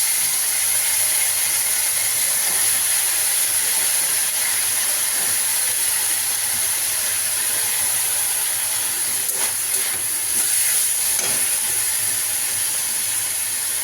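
Chopped bottle gourd goes into a pan of fried ginger-cumin paste, giving a steady, loud hissing sizzle that carries on without a break from start to finish.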